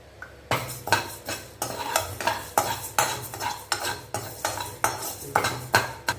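Moong dal dry-roasting in a pan, stirred with a utensil that scrapes the metal in a steady rhythm of sharp strokes roughly twice a second, close and fairly loud throughout.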